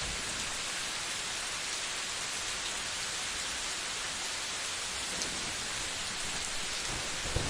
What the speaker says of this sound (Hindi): बारिश बहुत ही तेज हो रही थी।